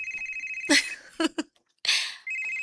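A telephone rings with an incoming call, two close bursts of bright trilling bell tone with a short gap between, fairly loud and without talk.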